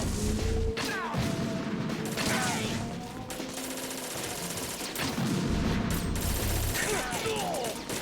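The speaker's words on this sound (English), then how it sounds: "Can you block the grenade launcher?" Grenade launcher fire and explosions ring out in a Metal Gear Solid 2 fight, with repeated sharp blasts and crashes coming in bursts. Someone talks intermittently over the loud, chaotic barrage.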